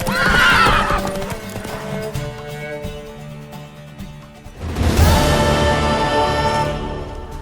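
A horse whinnies loudly in The Witcher 3, a high wavering neigh, then hooves clop amid a burst of musical, game-like sound effects.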